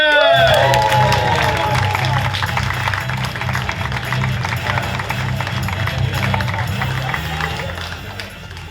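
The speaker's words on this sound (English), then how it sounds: "Thanks for clapping, that's very kind of you." Audience at a comedy show at Just The Tonic applauding and cheering for comedian Eric Rushton, dense steady clapping with whoops and shouts that stays loud and close throughout.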